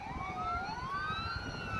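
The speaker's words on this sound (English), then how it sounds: "Sorry about the siren." An emergency vehicle siren wails steadily during a tornado chase near Madill, Oklahoma, its pitch gliding up and down, moderately loud over a low background rumble.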